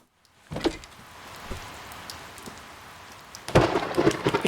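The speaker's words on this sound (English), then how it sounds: "Rain, thunder, people whisper, full lights, moon, oop, rain, fire" Theatre rehearsal rain and thunder effect, steady rain hiss with sharp thunder cracks near the start and a louder crashing rumble toward the end.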